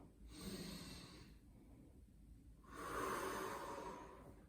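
A long, breathy exhale during a gentle arthritis exercise class, a soft rush of air rising and fading twice over several seconds, close and moderately quiet with no talking.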